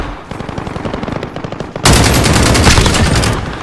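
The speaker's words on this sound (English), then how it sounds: "Taking fire!" Rapid automatic gunfire in Call of Duty Warzone, a steady burst of shots that swells suddenly into a loud, dense barrage of close fire.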